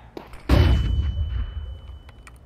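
A flashbang grenade going off in a Counter-Strike 2 match, a small click followed by one sharp, loud close burst that rings and decays over about a second, alone.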